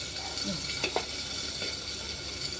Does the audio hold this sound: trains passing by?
no